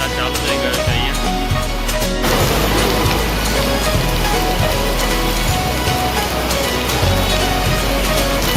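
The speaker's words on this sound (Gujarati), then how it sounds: "વરસાદ ચાલુ થઈ ગયો છે અહીંયા." Rain pours onto a waterlogged street at the Radhanpur crossroads in Mehsana, a loud, dense, continuous hiss with spattering drops and low rumbling underneath.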